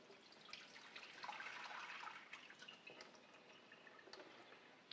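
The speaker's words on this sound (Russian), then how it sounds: "воду мы сливаем" Water is drained off dried persimmons that soaked overnight in plain water, a quiet, close pouring and trickling swell that tapers into scattered soft drips.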